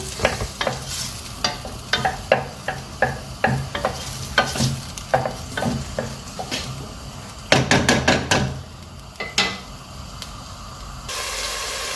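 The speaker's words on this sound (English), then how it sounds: "The onions and the garlic fried away nicely." Onions and garlic frying in a pan for beef goulash: a rhythmic run of spatula knocks and scrapes over a steady sizzle, then a quick flurry of rapid stirring and a hissing burst near the end, with no talking.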